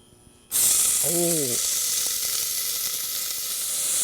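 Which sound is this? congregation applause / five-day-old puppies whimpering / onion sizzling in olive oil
onion sizzling in olive oil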